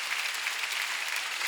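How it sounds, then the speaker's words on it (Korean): Loud, sustained applause from a church congregation during a Sunday worship service, a dense unbroken patter of many hands clapping hard with no voices over it. "박수 세게 쳐봐요."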